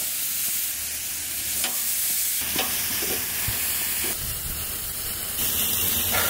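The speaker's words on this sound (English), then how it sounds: "Gonna let these bad boys sizzle for a little bit." Short ribs sizzle on a grill with a loud, constant frying hiss and spitting crackle, broken by a few scraping and clinking touches, and no one speaks.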